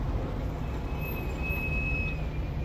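A tram rumbles past on a street in Alexandria, a steady low roll of wheels with a thin metallic squeal rising above it, close and continuous.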